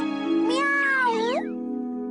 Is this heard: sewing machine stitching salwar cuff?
no